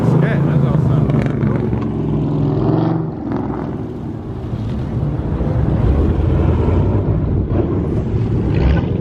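Dodge Charger Scat Pack V8 engine rumbling at a crowded Mopar car meet, a loud, steady low engine drone with revving swells, wind buffeting the microphone and people talking nearby throughout.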